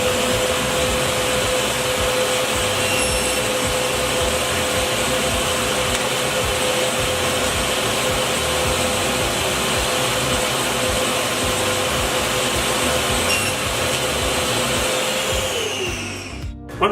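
A power saw cutting a wooden board in half for a crosscut sled, a loud, steady motor whine with continuous cutting noise lasting about sixteen seconds, then winding down at the end; close and without talking.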